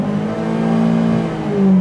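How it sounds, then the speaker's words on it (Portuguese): Car engine held at high revs against the rev limiter, a sustained loud droning whine with a slight pitch shift near the end, close and without talking. "Jack, o negócio corta giro, caixão."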